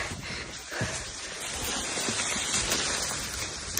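Rain falls steadily on a hillside trail while climbing the erupting Dukono volcano in Indonesia, through dusty tall grass under fog; a continuous close, even hiss fills the whole stretch with no talk.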